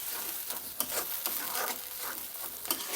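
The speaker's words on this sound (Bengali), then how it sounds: "পেঁয়াজ বাটা দিয়ে একটু নেড়ে নেব।" Onion paste is stirred in a frying pan for a katla fish curry with potatoes. A faint, continuous sizzle carries soft scraping strokes throughout.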